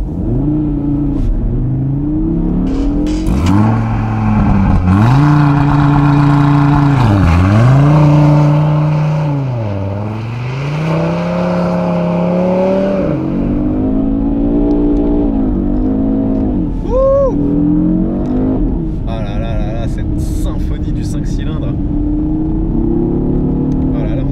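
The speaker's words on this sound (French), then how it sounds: "Attendez, il n'y a personne, on va faire un petit départ" A 2020 Audi RS Q3 Sportback pulls away hard from a standstill. The engine note climbs loud and close through several rising sweeps with dips at the gear changes, then settles and fades, while someone talks over it.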